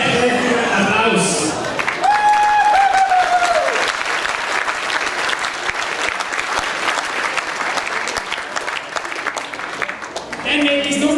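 Sustained applause from a crowd at an anniversary champion awards event, steady clapping throughout with some voices and a brief whistle-like tone near the start.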